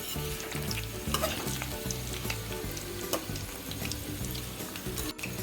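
Food frying in a pan, a dense continuous close sizzle with occasional stirring scrapes and clinks, no voices.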